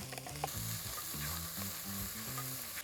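Onions frying in rendered bacon fat over a fire give a close, steady sizzle and crackle with faint stirring, continuous and unbroken throughout.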